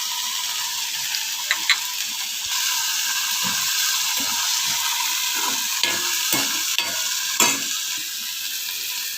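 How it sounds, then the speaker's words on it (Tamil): Pirandai (adamant creeper) sautés in a pan, a steady loud sizzle and hiss throughout, with occasional stirring scrapes and clinks and no talk. "நல்லா வதக்கணும். அந்த கலர் நல்லா மாறணும்."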